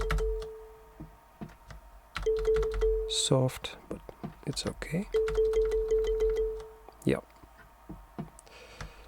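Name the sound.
kalimba-like synth sound in SuperCollider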